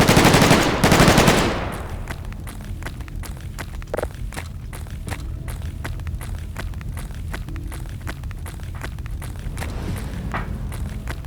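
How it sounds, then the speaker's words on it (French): Gunfire in Garry's Mod SCP roleplay: a loud burst opens, then rapid, sharp automatic shots crackle steadily at moderate distance for several seconds, with no talking over them. "Pourquoi ça tire?"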